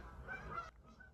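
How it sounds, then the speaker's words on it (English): Geese honk in a quick cluster of nasal calls, moderately close, with the honking cutting off abruptly and trailing into fainter calls. "just a lot of geese."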